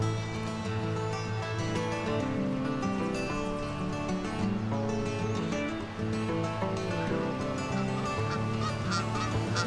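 Wild geese honking continuously, a dense overlapping chorus of loud nasal calls from many waterfowl, close and unbroken.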